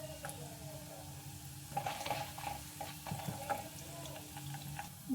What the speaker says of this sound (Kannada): ಮತ್ತು 1 ಸ್ಪೂನು ಉದ್ದಿನಬೇಳೆ ಹಾಕ್ಕೊಳ್ಳೋಣ. ಸ್ವಲ್ಪ ಫ್ರೈ ಮಾಡ್ಕೊಳ್ಳಿ ಅದನ್ನು.